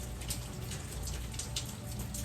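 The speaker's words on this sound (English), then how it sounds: "And it's raining." Steady rain falls outdoors on a Thanksgiving morning, a dense, continuous hiss of drops with occasional brighter splatters, fairly faint and even throughout, with no voices.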